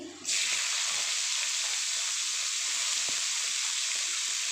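Flat beans hit hot oil in a pan with a sudden loud sizzle that settles into a steady, bright frying hiss, close and continuous with no talking.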